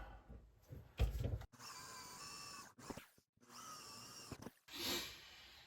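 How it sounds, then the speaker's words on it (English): A power drill bores out a hole in a hollow sheet metal stanchion, whining in several bursts of varying length separated by short gaps, fairly close and clear. "So then I'll drill it out bigger"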